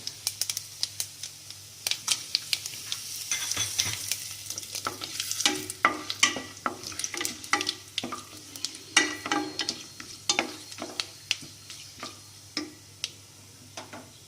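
Fennel seeds fry in hot oil over low heat, a soft, steady sizzle dotted with many sharp ticking pops and crackles spread unevenly across the clip.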